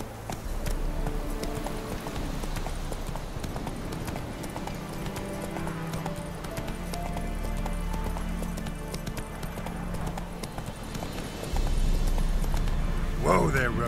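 Roach, the horse in The Witcher 3 video game, gallops with a steady, driving clip-clop of hooves under music and voices, and the hoofbeats grow louder toward the end.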